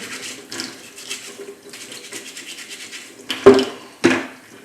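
A mussel shell is scrubbed clean by hand, short rough scratching strokes in bursts close up, ending with two louder scrapes, no talk.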